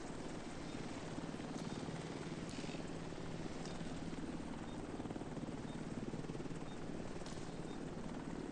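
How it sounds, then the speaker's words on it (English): An extraction helicopter in Tom Clancy's The Division 2 thrums with a steady, rapid rotor chop and a constant engine roar, heard at a moderate distance without any speech over it. "Extraction helo almost within range."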